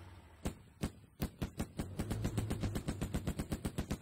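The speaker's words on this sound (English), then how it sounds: "Gatling tank, ready for action." Rapid machine-gun bursts from a Gatling tank in the strategy game Command & Conquer: Generals, starting with a few separate shots and building into a fast, steady stream of loud rounds over a low engine hum.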